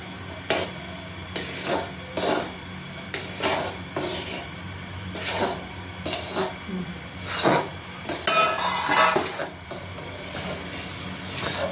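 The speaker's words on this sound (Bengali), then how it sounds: "এবার নাড়াচাড়া হবে।" A coconut and sugar mixture for chachi naru stirred in a pan, with repeated scraping and rubbing strokes against a soft steady hiss, and some faint voices in the background.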